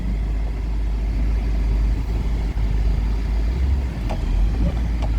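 A car engine idles steadily and close by after being shifted into drive for a forward and backward test, a constant low rumble with a few light knocks near the end.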